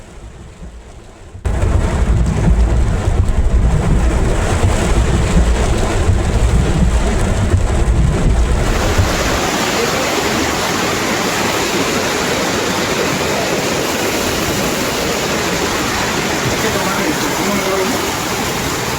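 Heavy rain pours down during flooding in neighbourhoods of Ciudad del Carmen, Campeche, a dense roaring wash of water that starts abruptly after a quiet opening, with a deep rumble that fades partway through.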